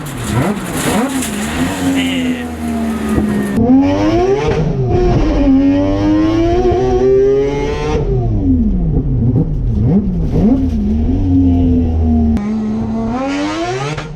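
A Mazda RX-7 with a 20B three-rotor rotary engine revs loud and close to just under 10,000 rpm, its buzzing note swooping up and down in repeated sweeps.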